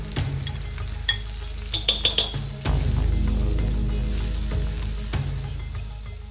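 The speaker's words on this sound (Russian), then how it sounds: "масло разогревается и опускаем в вок смесь из чеснока, имбиря, зеленого лука и перца чили" Oil sizzling and crackling steadily as garlic, ginger, green onion and chili fry in a hot wok, with a few metallic clinks of a utensil stirring against the pan.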